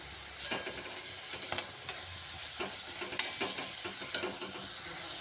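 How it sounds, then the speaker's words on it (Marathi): Radish with red chili powder fries in oil in a pan, making a soft continuous sizzle and hiss broken by several stirring scrapes and taps from a spoon, close and fairly quiet. "आता यामध्ये आपण लाल तिखट ॲड करूया छान एक मिनिटभर परतून घेऊया"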